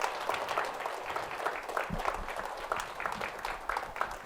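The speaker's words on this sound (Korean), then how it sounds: "여러분 큰 박수 부탁드립니다." An audience at a Buddhist temple memorial ceremony gives a sustained round of clapping, dense and steady for several seconds, moderately loud, with a faint murmur beneath.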